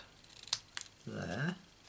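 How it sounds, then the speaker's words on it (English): Scissors snip through cardstock for birthday card sentiments, two quick crisp cuts followed by a longer sliding cut, close and fairly quiet. "so I'm going to cut that there and that there"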